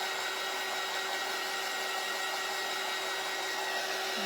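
A hair dryer dries a sunflower gnome shelf-sitter craft project, giving a steady, unbroken whir at constant loudness throughout with no talking.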